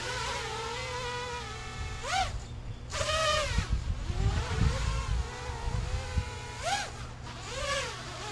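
A camera drone on a test flight gives a buzzing, insect-like whine that sweeps up and down in pitch as it passes, with a low rumble beneath and quieter stretches between passes.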